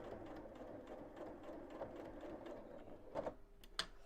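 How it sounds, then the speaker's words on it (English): A sewing machine stitching a placemat or sewing machine mat, a faint, quick rhythmic mechanical patter with a few louder clicks near the end, heard alone without talk. "Carry on sewing."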